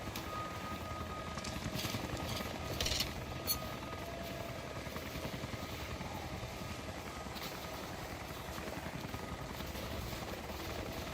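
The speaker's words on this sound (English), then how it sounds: "We'll have to ground the choppers soon." Helicopters in the video game Rise of the Tomb Raider give off a continuous low rotor and engine drone with a steady vibrating throb. It stays fairly quiet and even throughout, with a couple of faint brief clanks.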